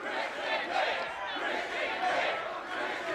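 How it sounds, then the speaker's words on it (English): A wrestling arena crowd roaring and chanting a wrestler's name, a loud rolling mass of voices that swells in waves. "Crowd screaming Christian's name, trying to fire him up."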